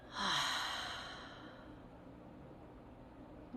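A deep, audible exhale through an open mouth during a guided breathing exercise, a single long breathy rush that starts loud and slowly fades into quiet room noise, alone without talk.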